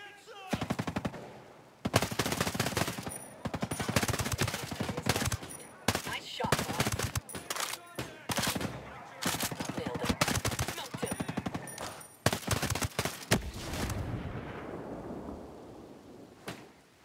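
Gunfire in the tactical shooter Ghost Recon Breakpoint: dense, loud automatic bursts repeat almost continuously, with short pauses and some sharp single cracks, then a fading echo at the end.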